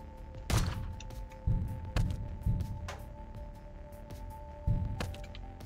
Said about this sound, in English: I can shoot the other guard